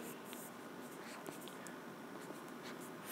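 Pen or pencil writing out a math answer by hand, faint scratchy strokes and small taps at close range, quiet and irregular with no voice.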